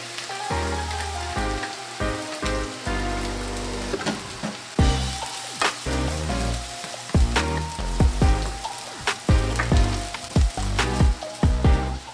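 Garlic frying in hot oil in a pan for pork kare kare, a steady loud sizzle with crackling bursts and occasional stirring clatter, close up with no talking.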